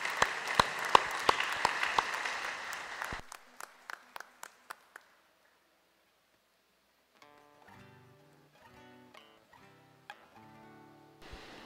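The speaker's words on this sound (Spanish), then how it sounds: "Felicidades, un aplauso." Church congregation at a parish in the Diocese of Sonsonate applauding, dense clapping that thins to a few scattered final claps and then silence, followed by soft organ or keyboard music starting up.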